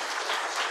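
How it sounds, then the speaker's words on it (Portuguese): An audience at a public meeting on highway construction bursts into dense, steady clapping that fills the whole short moment. "Eu peço uma salva de palmas a toda a plateia"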